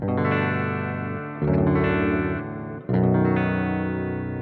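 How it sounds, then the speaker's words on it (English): Three heavy, deep-tuned electric guitar chords on a Fender VG Stratocaster in modeled lowered tuning, each struck and left ringing with thick distortion before the next one hits. "Everything is tuned down much lower. You can still play open chords, but it's much richer."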